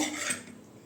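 A spoon stirs cabbage and carrot batter in a bowl, giving a short, soft scrape and clink under a second of quiet.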